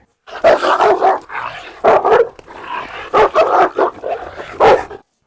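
A Cane Corso and a Rottweiler bark and yip during rough play, with several loud close barks coming in short clustered bursts separated by brief pauses.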